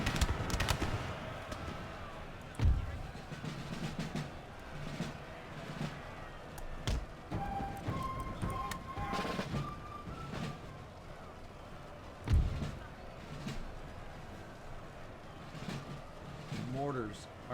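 Scattered musket volleys and mortar fire in an Empire Total War battle, distant cracks and pops at irregular intervals over a quiet battlefield ambience, fairly faint, with a voice talking over it.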